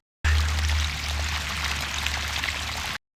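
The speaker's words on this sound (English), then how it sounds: "I'm just letting some fresh water flow in the top, and we'll pump all the dirty water out the bottom." Fresh water pours steadily into the top of a backyard waterfall pond during a spring cleanup, a continuous close splashing flow with a low rumbling undertone and no voices.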